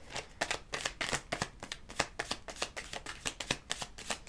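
Tarot and angel cards being shuffled by hand, a fast run of crisp riffling flicks and slaps repeating close up, with no talk over them.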